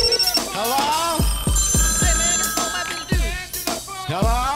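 An old-style telephone hotline bell rings in quick repeated bursts as a sound effect, loud and close, mixed with lively cartoonish musical stabs and sliding tones.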